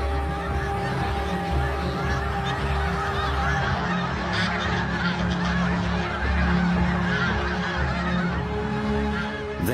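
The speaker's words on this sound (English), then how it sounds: "until snow geese fill the sky" A large flock of snow geese honks continuously, hundreds of overlapping calls forming a dense, noisy chorus that fills the whole stretch.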